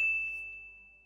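A single bright notification bell ding rings out cleanly and decays smoothly over about a second, alone with no talk.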